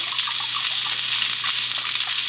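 Chicken broth pours from a carton into a cooking pot as a steady, continuous liquid gush, close and fairly loud, with no talk over it.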